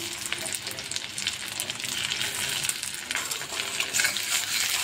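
Chopped onion sizzles and fries steadily in a hot pan for a home curry with egg, a continuous crackling hiss with a few faint clinks, no talking.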